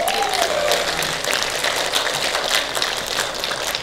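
Audience applause at a Makara Art Center UI music event, honoring a veteran drummer of Indonesian bands: dense, steady clapping that fills the whole stretch at close range, with no talk over it.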